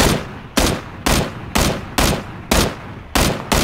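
Loud, close suppressive gunfire from the video game PUBG Battlegrounds, fired in a steady rhythm of about seven evenly spaced heavy shots, each with a short decaying tail.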